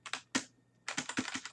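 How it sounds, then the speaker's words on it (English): Computer keyboard keys clicked in quick bursts, a couple of isolated taps followed by a rapid cluster of clacks, close and fairly quiet. "Maybe I have to click LB on my keyboard."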